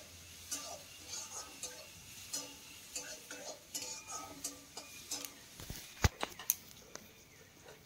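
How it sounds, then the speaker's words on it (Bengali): Soaked lentils stirred and fried with onions in a pan, giving soft scraping and clinking of a spoon against the metal in irregular bursts over a faint sizzle, with a few sharper knocks toward the end. "এখন এই ডালটাকে এই পেঁয়াজের মধ্যে দিয়ে দিতে হবে। তারপরে ডালটাকেও কিছু সময় এইভাবে ভেজে নিতে হবে।"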